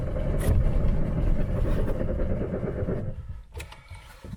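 A Citroën AX car engine cranks and churns for about three seconds without catching, then cuts out, followed by faint clicks.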